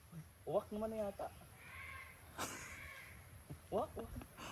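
A few harsh crow caws in short bursts, fairly distant, over quiet outdoor background with faint voices.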